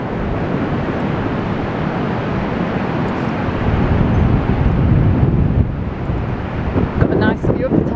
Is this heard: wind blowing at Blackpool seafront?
yes